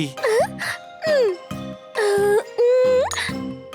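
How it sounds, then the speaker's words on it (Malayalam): Several short coughing bursts from a pollution-triggered cough alternate with brief tonal, squeaky sounds, close and fairly loud, with pauses between each burst. "പൊല്യൂഷൻ കാരണം വീണ്ടും ചുമ വരുന്നുണ്ട്"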